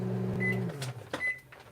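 A microwave oven heating peanut butter for cookies, its steady hum running briefly, followed by a couple of beeps and clunking door or cupboard knocks nearby.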